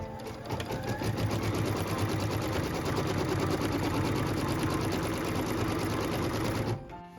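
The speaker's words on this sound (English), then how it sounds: "What we're stitching right now is the tack down line for piece number 4." Sewing machine running steadily and close up for several seconds, stitching a tack-down line through fabric on a pieced quilt block, with a rapid even needle rhythm that stops abruptly near the end.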